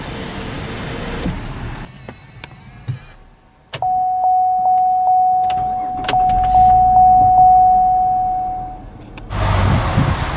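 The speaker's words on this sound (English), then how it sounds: "If I press this button, it reveals a panoramic roof." The panoramic roof on a 2008 Cadillac CTS4 opens with a steady electric motor whine lasting several seconds, heard close up inside the cabin. It starts after a click, carries light ticks, and ends before the interior noise returns.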